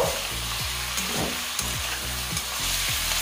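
Spring onion greens and mixed vegetables with chili powder fry in a pan, a constant close sizzle broken by repeated scraping stirs, with music playing softly underneath.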